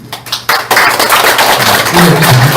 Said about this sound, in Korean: 이렇게 큰 박수 해주기 바랍니다